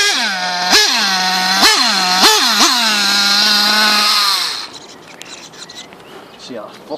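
A Losi 8ight 2.0 nitro RC buggy with an RB .21 race engine screams loudly up close, revving in four sharp bursts before it settles into a steady high whine and then cuts out, leaving faint background noise with some talk.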